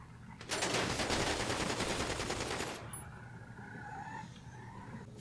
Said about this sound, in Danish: Der bliver skudt.